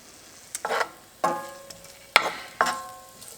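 Sliced sausage, about a third of an inch thick, being browned in a pan for gumbo: a few separate clattering stirs and scrapes, each followed by a brief sizzle, close and moderately loud.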